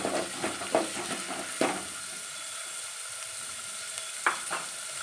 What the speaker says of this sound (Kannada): ಉಪ್ಪಿಟ್ಟಿಗೆ ಈರುಳ್ಳಿ ಸ್ವಲ್ಪ ಎಣ್ಣೆಯಲ್ಲಿ ಫ್ರೈ ಆದರೆ ಸಾಕು